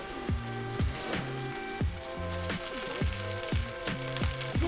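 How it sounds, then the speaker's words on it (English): A chicken breast sears in a very hot pan, a continuous close sizzle with tonal background music running beneath it. "Now that my pan is nice and hot, I'm gonna go in with my chicken breast."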